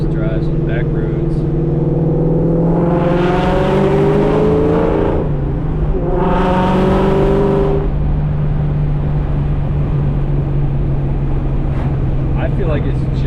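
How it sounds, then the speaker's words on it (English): A Terminator Cobra with a new exhaust setup pulls hard twice on a back road, its engine note climbing loudly in two distinct surges over a steady, close exhaust drone. "This new exhaust. I think it sounds really good."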